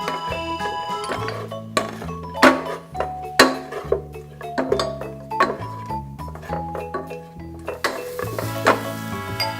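Ginger stirred into a sizzling pan while cooking Indonesian oxtail soup, with a steady frying hiss and repeated metal clinks and scrapes of a utensil against the pan, close and clear with no talk.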